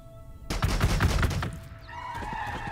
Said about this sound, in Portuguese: Vou meter tiro nos cachorros.